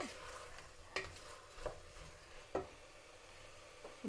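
A spoon scrapes and tosses tomato rice ingredients with chili powder and green chilies in a pan, giving a few distinct scraping strokes at irregular intervals against a faint background with no talking.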